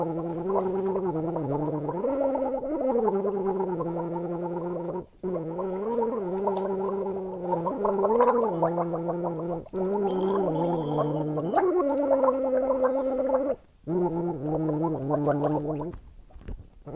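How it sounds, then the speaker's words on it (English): A person gargles a song, the watery, bubbling throat tone carrying a clear wobbling melody in long phrases broken by short breath gaps. "Could you gargle the song?"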